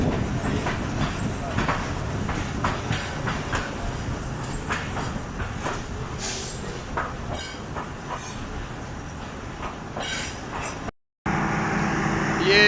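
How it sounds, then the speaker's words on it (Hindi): Fareed Express train rolling into Kanganpur railway station in the rain, a steady close rumble with clickety-clack wheel beats and occasional squeals throughout, briefly cut off near the end before resuming. "9:19 हो रहे हैं और ट्रेन कंगनपुर रेलवे स्टेशन पहुँच रही है।"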